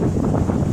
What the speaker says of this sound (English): it's windy out in New York State, so you're not going to be able to hear me at all